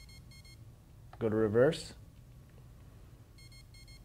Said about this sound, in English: Wait for the tones,